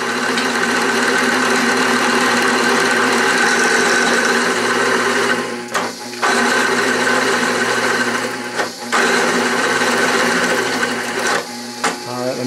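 A slow-speed drill press driven by a DC motor bores a large hole and stalls easily, giving a continuous loud motor hum and whir with several brief dips where the drive bogs down.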